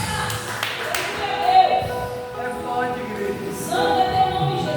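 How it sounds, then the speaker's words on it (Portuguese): A church congregation applauds strongly for the Lord, with dense clapping under a sustained tonal backdrop of music or singing voices. "E aplaudir o Senhor bem forte em nome do Senhor Jesus"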